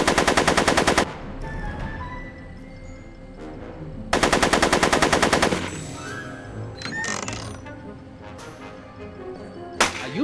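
Machine gun fire in a Back to the Future video game: two loud rattling bursts of rapid shots, each about a second long, separated by a quieter stretch of game sound, then a single sharp shot near the end.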